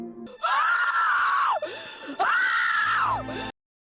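Neytiri, a Na'vi woman in the Avatar film, screams and wails in grief over her dead son, two long, loud anguished cries with a brief gasping break between them, alone without other voices.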